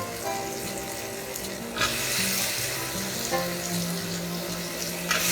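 Brinjal pieces dropped into hot masala oil sizzle and crackle quietly in a pan, with a few louder bursts as more eggplant goes in and a low steady hiss between them.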